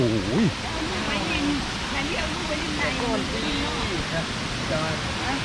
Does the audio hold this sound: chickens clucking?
no